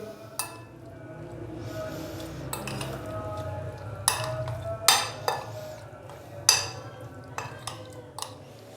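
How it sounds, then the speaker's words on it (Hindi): A spoon stirs chicken marinade with cooking oil in a bowl, giving scattered clinks and scrapes against the bowl over soft wet mixing, close and moderately quiet. "तो अभी हम इसको अच्छे से मिक्स कर देंगे।"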